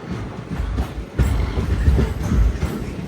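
Repalle Express passenger train at Vemuru, a small two-platform village station, rolling with a steady low rumble and rhythmic wheel clatter that swells after the first second, fairly close and without voices.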